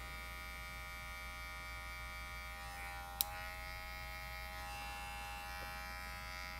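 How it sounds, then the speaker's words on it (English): Electric shaver in a barbershop during a fade haircut, a steady close buzzing hum running throughout with one sharp brief click midway. "If my trimmer don't get it out, I'll be back with my electric shaver."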